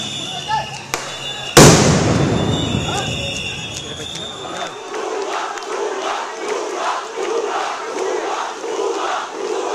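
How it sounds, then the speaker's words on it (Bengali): Police sound grenade going off amid a crowd of protesting students at Dhaka University, one sharp, very loud blast followed by a dense crowd roar of shouting and chanting that carries on in waves. "তখন এভাবেই সাউন্ড গ্রেনেড মারা হয় আইন শৃঙ্খলা রক্ষাকারী বাহিনীর পক্ষ থেকে"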